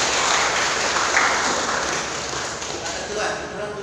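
Church congregation at a youth service in Palu applauding, a dense, steady wash of clapping that fills the room and fades slightly toward the end.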